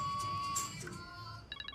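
A phone ringing indoors, a bright electronic tone that repeats in quick pulses, fairly quiet, with soft background noise.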